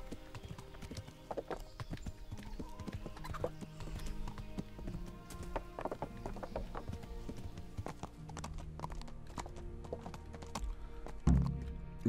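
Continuous clip-clop of horse hooves at a steady walking rhythm in the video game Kingdom Come: Deliverance, close up, with a soft thud near the end.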